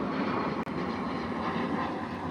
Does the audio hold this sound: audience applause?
no